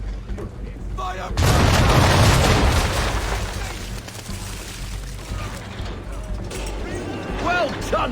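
Sailing ship cannons fire a round-shot broadside in Assassin's Creed III, a heavy booming blast that swells up and rolls on for several seconds before fading into ship and sea ambience, with voices calling out around it.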